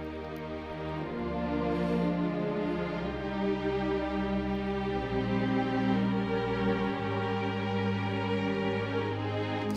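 Bowed string arrangement sustains a slowly moving chord progression toward a dominant seventh, with smooth, legato held notes from low bass to upper voices and a gentle swell, played alone at moderate volume.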